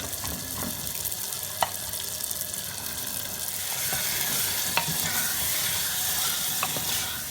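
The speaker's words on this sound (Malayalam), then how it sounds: "നമുക്ക് മാരിനേറ്റ് ചെയ്ത് വെച്ച ചിക്കൻ ആഡ് ചെയ്ത് കൊടുക്കാം." Marinated chicken sizzles and fries in a pan for biriyani, a steady crackling hiss with occasional sharp clinks of a utensil stirring.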